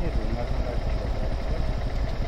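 A motorcycle engine runs with a steady, rough mid-pitched drone on a mountain trail near Manang, loud and constant under the nearby voices of people talking.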